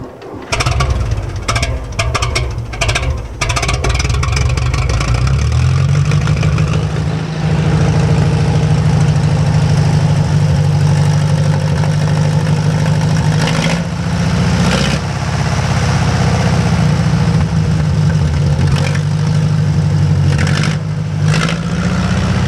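Vintage National automobile engine cranks with sputtering bursts, then catches and settles into a loud, steady close-up idle with a few revs along the way.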